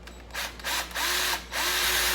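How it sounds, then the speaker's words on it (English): A power drill with a self-starting pilot bit boring into wood for a wooden wheel bat, cutting in several rising and falling bursts of whirring, grinding noise with brief pauses between, close and loud, with no talk. "Now this particular drill bit has its own pilot starter."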